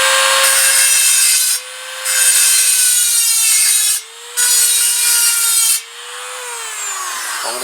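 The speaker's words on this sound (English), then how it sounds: "I've resorted to this, which is like a die grinder on the end of my Dremel." A Dremel fitted with a die grinder bit grinds out bearing races from a Kawasaki GPZ500S frame: a loud, close, high-pitched whine with harsh rasping grinding in long bursts, briefly easing twice before pressing on again.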